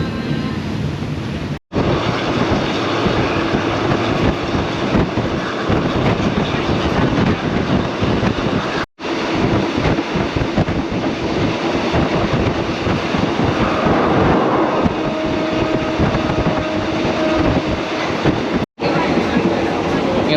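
Passenger train running between Bangkok and Ayutthaya near Rangsit station, a steady loud rumble of wagons with brief gaps and a faint tone later, people talking over it.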